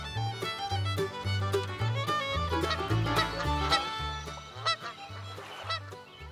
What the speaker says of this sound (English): I sit back and watch the world move by as various waterfowl make their way past my camp